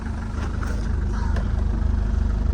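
An abandoned diesel Mercedes engine idles when warm, a loud close-up steady clatter with a rapid even pulse and no talk over it.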